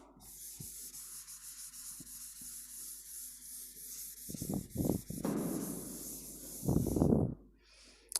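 Rubbing writing off a board in a classroom, a few quiet strokes, then louder scrubbing bursts in the second half, close and dry, with a steady faint hiss behind.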